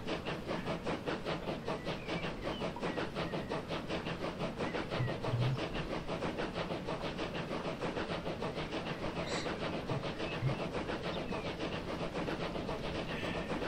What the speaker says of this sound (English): Oh, look, we can watch a train go by.